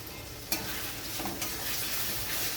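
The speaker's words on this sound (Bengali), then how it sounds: "এবার আমি দিয়ে দিচ্ছি আদা রসুন পেস্ট।" Ginger garlic paste hits lightly browned onions in a hot pan while a cauliflower keema dish is cooked, giving a loud, steady broadband sizzle with a sharp burst as it goes in and a brief stir midway.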